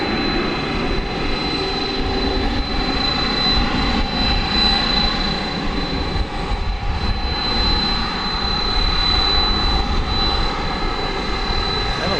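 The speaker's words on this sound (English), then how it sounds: "Wow, those are loud engines." Loud jet airliner engines roar steadily at a DFW Airport runway at night, a broad, sustained rumble with a high whine on top, continuous and close.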